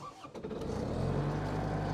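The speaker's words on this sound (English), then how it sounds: "So I'm going to have to start the engine here." The engine of an Iseki SF450 mower cranks and catches, settling into a steady, loud running drone with a low rumble.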